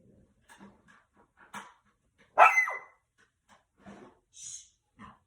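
A puppy gives one sharp close bark among soft snuffling, breathing and small movement sounds, otherwise quiet.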